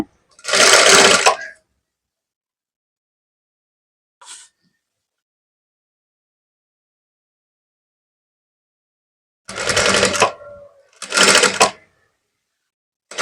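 A sewing machine stitches a blouse along a marked line in loud, close bursts: one run near the start, a tiny blip, then two more runs near the end, separated by silence.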